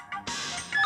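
A telephone rings in a short, bright electronic burst, close and clear, with no voices over it.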